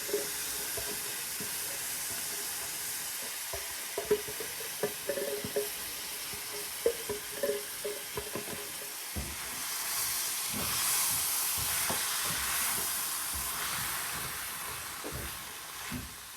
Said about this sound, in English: So now we are going to add the tomato sauce, and I've got crushed tomatoes.